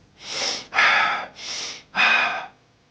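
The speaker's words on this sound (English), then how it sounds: "The repetitive breathing more quickly and deeply, this kind of thing" Fast, deep, repetitive breathing: four loud, close breaths alternate between sharp inhales and forceful exhales in a quick, even rhythm, heard alone.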